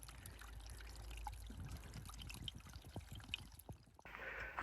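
Cool spring water trickles and pours steadily at a mountain water source in a spruce and fir forest of the Great Smoky Mountains, a close, continuous splashing flow with no talking.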